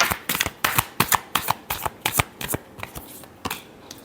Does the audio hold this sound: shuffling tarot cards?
yes